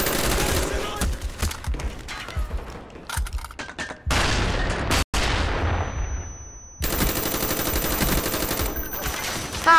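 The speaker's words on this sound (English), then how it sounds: "you hit me with a flashbang and you still couldn't get me" Black Ops video game combat: rapid gunfire bursts and a flashbang grenade blast followed by a muffled ringing fade, then loud shooting resumes, all up close.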